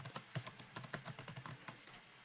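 Keys on a computer keyboard are tapped in a quick, fairly steady run of light, close clicks lasting about two seconds, quiet and without any talk.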